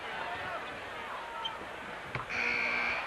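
A loud electronic buzzer sounds abruptly and holds steady over a noisy arena crowd, preceded by a brief thump, ending a quarter at a 1995 NBA basketball game, Chicago Bulls at Portland Trail Blazers.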